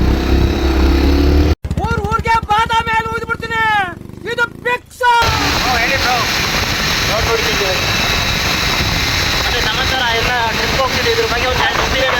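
A motorcycle rides along with a steady engine drone and rushing wind, close and loud, while a voice talks over it early on.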